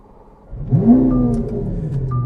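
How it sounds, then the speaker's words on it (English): A Lamborghini Aventador LP 700-4 V12 fires up with a rising whoop that settles into a steady, rumbling idle, near and loud, with no talk over it. "when you want to start the car, you come over here and you hold this down"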